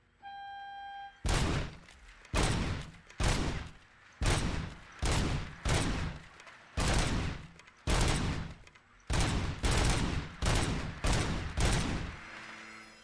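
RoboCop's service weapon fires in RoboCop: Rogue City, about a dozen loud, heavy single shots in a steady rhythm roughly one per second, each with a booming tail, close and alone without talk.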